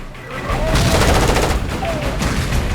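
Rapid weapons fire in the video game Far Cry Instinct, a sustained burst of loud, close gunshots rattling continuously with a few brief tonal whines over the barrage.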